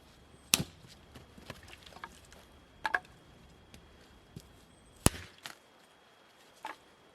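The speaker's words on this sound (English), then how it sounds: "I'm going to break up all of this pile so I can feed the fire as we get going" Wood from a pile broken up by hand to feed a fire, heard as scattered sharp snaps and cracks, a few louder than others, spaced irregularly over a quiet background.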